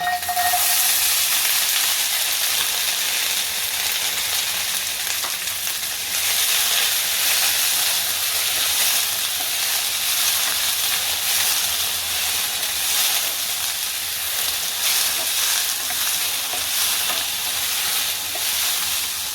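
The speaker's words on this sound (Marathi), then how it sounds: "त्याच्यामध्ये एक चम्मच तेल घालते मी एक छोटा चम्मच त्याच्यावरती आपलं गवार भाजून घ्यायचे फक्त" Cluster beans roast in a small spoonful of hot oil in a pan, giving a loud, continuous hissing sizzle that holds steady with no talk.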